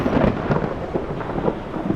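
Thunder rumbles steadily under a continuous rain wash during a sea storm, a dense, loud, broadband roar with no voices.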